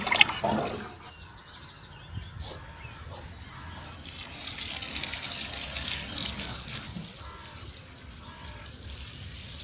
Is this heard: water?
yes